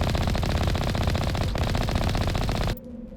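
Rapid automatic gunfire in a video game rattles loudly and without a break for nearly three seconds, then cuts off abruptly into quieter game background.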